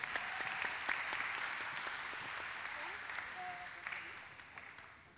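A conference audience at a public speaking workshop claps steadily for about five seconds, a dense even patter with a few sharper individual claps and faint voices underneath.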